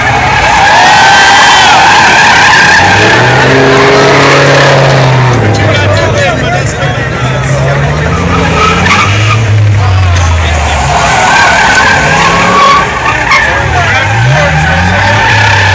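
Gas Ford F350 tow truck doing donuts, tires screeching in long continuous squeals with an engine revving up and down, loud and close, while people talk and shout over it.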